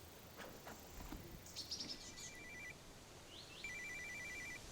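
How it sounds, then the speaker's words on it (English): A satellite phone rings in a forest, sounding two short bursts of electronic trilling ring tones set against quiet outdoor ambience with faint bird chirps. "Is that your sat phone?"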